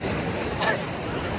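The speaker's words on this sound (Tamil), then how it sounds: "அலை வருது அலை வருது." Ocean waves at Kanyakumari beach roll in as a steady, loud wash of surf with wind noise across the microphone, near and continuous.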